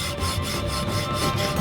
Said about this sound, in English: To begin the inlay process, Ilya uses a hacksaw to strike an initial line